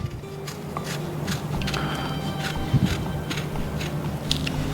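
A knife cutting a large piece of peel from a navel orange, heard as soft crackling and scraping bursts against a steady background hum, close and faint, with no talking.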